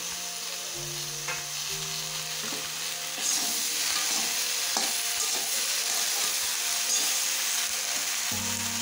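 Tomato, green chili, malabar spinach, pumpkin and potato sizzle steadily in a hot pan while a utensil scrapes and stirs through them in occasional clear strokes, with a low background hum and no talking.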